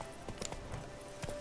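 A horse's hooves clip-clop at a gallop in The Witcher 3: Blood and Wine, a short run of fairly quiet, quick hoofbeats with faint game ambience underneath.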